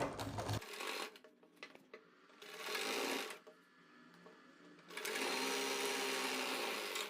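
A sewing machine stitches the gathered seam of an umbrella palazzo in two separate bursts, with quieter handling noises between them, close and fairly soft.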